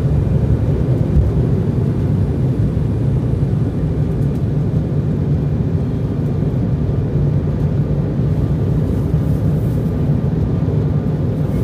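Steady, loud airliner cabin roar during flight, a constant low engine and airflow drone with no break.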